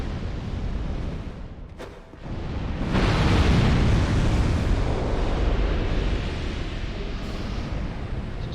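Fire traps going off in a long hall in Dark Souls 2: one sharp bang, then a loud, sustained roaring rumble of blasts and burning that fills the space, with no voices.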